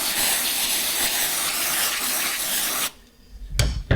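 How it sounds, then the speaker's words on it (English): Electronic cleaner sprays from an aerosol can onto the electric motor of a Razor scooter, a loud, steady hiss lasting almost three seconds that stops abruptly, followed by a brief clatter of handling. "And this is electronic cleaner."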